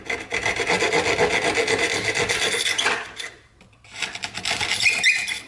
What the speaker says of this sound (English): Then I'm going to take my drywall saw.